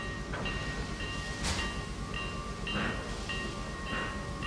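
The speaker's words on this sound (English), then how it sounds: "we're going to move up all the other trains" Trains roll along in the Trainz 2022 simulator on the C&O Hinton route, a steady low rumble with tonal hums and a few soft clanks and clicks spread across the stretch.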